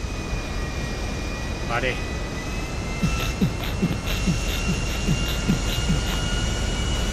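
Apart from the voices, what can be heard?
airplane engine in video game GTA Online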